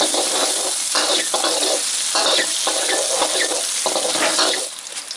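Chili and garlic sizzle loudly in a hot wok still greasy from fried eggs, a dense steady frying hiss broken by repeated scraping stirs of a spatula, close and continuous with no talking.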